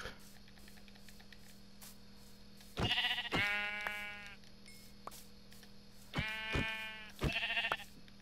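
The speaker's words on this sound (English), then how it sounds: "Sheep." Blocky sheep in Minecraft bleat in two separate bursts, each a quick pair of wavering calls, clear over a steady low hum and faint game clicks.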